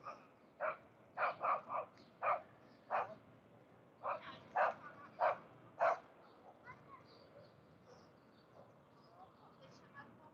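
Dog barking at night on a San Francisco street, a series of sharp barks in quick clusters, then softer yips and whimpers trailing off, moderately near with background hum.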